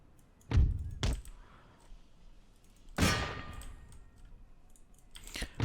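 Distant cannon bombardment on an Empire: Total War battlefield, a few separate heavy thuds and clanging impacts spaced over several seconds, with quiet gaps in between.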